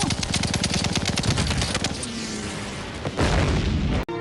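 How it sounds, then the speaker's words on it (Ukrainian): Rapid bursts of cartoon gunfire rattle loudly, followed by a heavy rumbling boom and a sharp final crack. "Сьогодні свято я постріляю."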